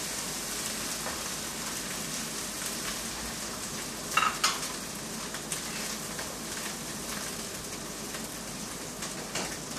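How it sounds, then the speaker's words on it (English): Ginger garlic paste frying with grated onion in a pan, a soft continuous sizzle and crackle with occasional brief pops and stirring scrapes, fairly quiet and with no one speaking. "Add the ginger and garlic paste, 1 tablespoon each. Mix it in. Again, let it sizzle with the onion for a couple of minutes."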